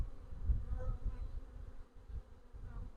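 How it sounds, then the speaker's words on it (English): A swarm of honeybees fills a hive with a dense, steady buzz, close and continuous, with a low droning hum throughout. "it's quite full of bees in here"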